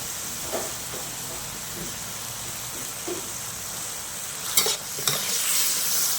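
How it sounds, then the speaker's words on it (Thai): Thai eggplant stir-fries in a hot pan with holy basil and light soy sauce, a steady close sizzle broken by a few sharp spatula scrapes near the end. "ผัดให้เข้ากันนะคะ"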